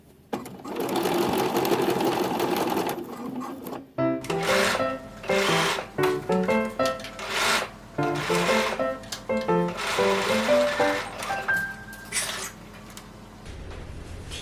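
A sewing machine stitches a tiny baby-garment sleeve into place, its motor running in close, loud bursts that stop and restart in short runs, with a brief pause near the start and no talk.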